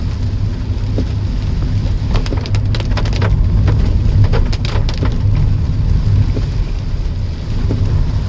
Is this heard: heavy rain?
yes